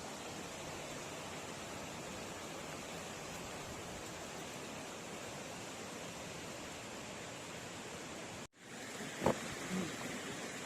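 Rushing water from the Ranidahra waterfall in Kabirdham, Chhattisgarh, pours as a steady, dense roar with no break for several seconds, then drops off abruptly. Quieter outdoor sounds follow.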